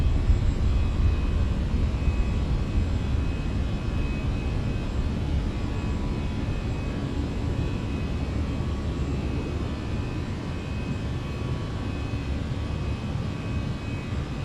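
Simulated airliner taking off in Microsoft Flight Simulator 2024, a steady, loud, broadband jet engine roar with a faint high whine, holding level throughout with no voices.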